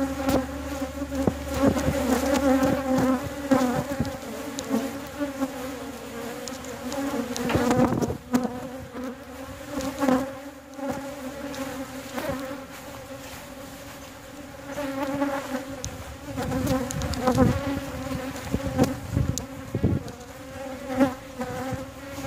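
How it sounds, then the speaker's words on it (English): A dense, continuous buzzing of many honeybees swirling around a beekeeper at a backyard hive, steady and loud with occasional sharper passes near the listener. "I'm just saying you got tons of bees on you"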